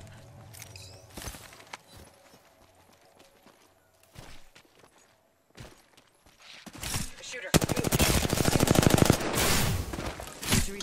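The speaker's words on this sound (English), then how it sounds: "Getting shot at." Video game gunfire aimed at the player in a solo-versus-squads battle royale, starting with scattered sharp shots and building into dense, loud bursts of rapid automatic fire toward the end.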